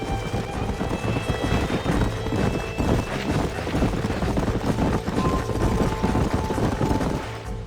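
Horse hooves pound steadily in Red Dead Redemption on PC, a fairly loud, continuous galloping clip-clop with sharp percussive impacts mixed in.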